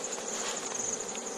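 Honey bees from a hive of sealed golden honey hum in a steady, dense drone throughout. The buzzing stays close and continuous with no talk.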